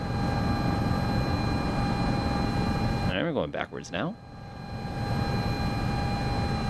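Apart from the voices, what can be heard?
Sikorsky S-76C helicopter flying in Microsoft Flight Simulator 2024 video game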